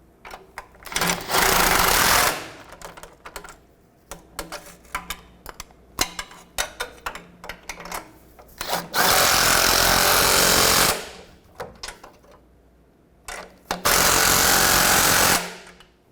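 A power tool tightens catalytic converter bolts on the passenger side of a 2007-2014 Chevrolet Silverado 2500 HD, firing in three loud, sustained bursts of about two seconds each, separated by clicks and handling clatter, close and with no talk.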